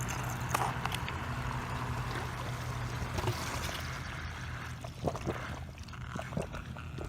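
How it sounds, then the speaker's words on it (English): The filter pump of a 10-foot Summer Waves Quick Set kid pool gurgles and trickles water, with a continuous close splashing wash and a low pump hum underneath. "I hear it gurgling."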